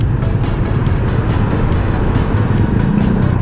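Road traffic on a drive from CSJDM to Quezon City near Sierra Madre, a loud steady roar of vehicles and engine rumble heard from close by, continuous with no distinct talking.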